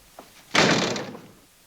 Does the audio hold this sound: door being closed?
yes